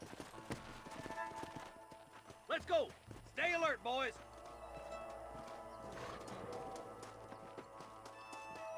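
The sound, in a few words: horses in video game Red Dead Redemption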